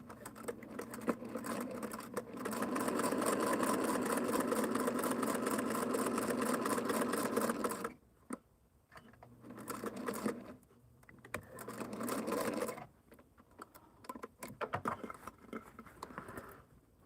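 A sewing machine stitches down a hexie quilt table topper in rapid, continuous whirring runs, first a long unbroken burst, then shorter start-stop bursts with brief pauses between, close and clear.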